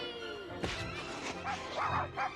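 A dog barks and yips in short excited bursts, with whimpering in between, moderately loud against a busy background.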